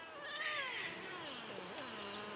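A pet cat meows repeatedly at close range in a home, drawn-out wavering cries with rising and falling pitch, moody-sounding, with no talk over them.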